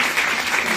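Audience applause fills a conference hall on spirit guides, the deceased and angels: steady, dense clapping from many hands, close and fairly loud, with no pauses.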